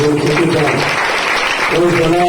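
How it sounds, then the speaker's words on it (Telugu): A worship congregation claps loudly and steadily throughout, a dense continuous wash of applause, with singing voices rising over it at the start and end. "గట్టిగా చప్పట్లు కొడుతూ"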